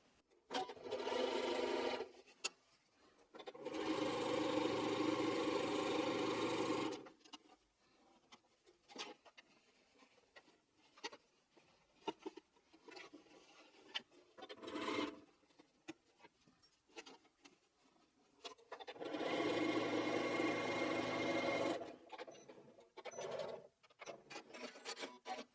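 A sewing machine stitches log cabin quilt pieces in two long, steady runs of buzzing whir, close and clear, separated by quieter stretches of fabric handling and light rustling.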